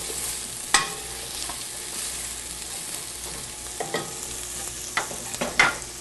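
Onions sizzle gently in a pan while a wooden utensil stirs and separates them, giving several distinct scraping knocks over a low, steady frying hiss.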